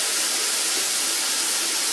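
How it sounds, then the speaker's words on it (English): Mushrooms sautéing in a separate frying pan, giving a steady close sizzling hiss that holds level and fairly loud throughout, with no talking. "I have a separate pan, I'm going to saute them in."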